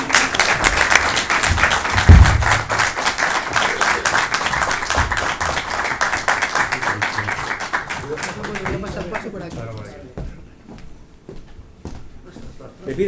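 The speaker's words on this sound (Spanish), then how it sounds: "Un aplauso para ella" A crowd at a Holy Week brotherhood event in Cartagena applauds warmly for a woman, a dense run of clapping that gradually thins and fades toward the end, with a bump or knock near the start.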